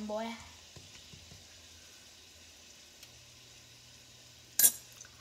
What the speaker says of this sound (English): It should start to be sizzling